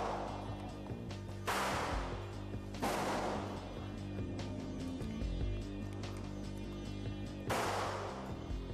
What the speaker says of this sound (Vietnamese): Có phải rất giống pháo kép năm mới không?